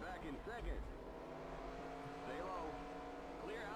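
Race car engines droning and revving around Bristol's short oval in the game NASCAR Racing 2003, a steady layered engine hum with pitch sweeps as cars pass close, alongside someone speaking.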